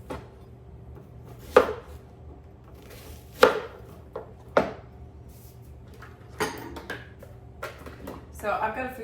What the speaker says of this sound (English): So first is going to be chopping a couple onions